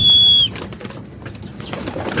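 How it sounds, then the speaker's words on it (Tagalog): A pigeon coos briefly, then racing pigeons flap their wings as they take off from a loft, a soft scattered fluttering that fades with some outdoor background noise. "Ayun, lumipad mga kalapatids."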